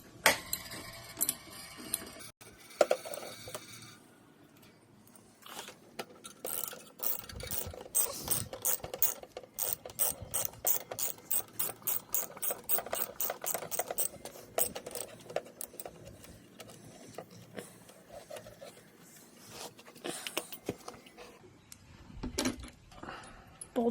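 A ratchet clicks rapidly and repeatedly while removing the exhaust bolt on a 2023 Kawasaki Ninja 400, close and fairly quiet, in long bursts of ticking with short pauses between strokes.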